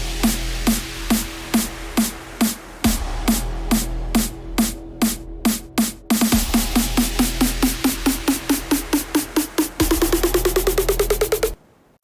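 An electronic snare build-up in a dance track hits in steady repeated strikes over a sustained synth tone, the rolls speeding up and rising in pitch through the last bars before cutting off abruptly.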